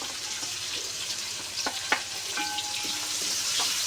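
Shallots sauté in hot oil for beef curry, a steady close sizzle with scattered scraping and stirring clicks from a spoon against the pan.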